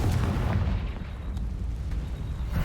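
The Confringo fire spell explodes in the Hogwarts Legacy video game, a deep rumbling blast that rolls on as a low, steady roar for a couple of seconds.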